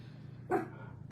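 One short dog bark sounds once, somewhat distant, over a steady low background hum.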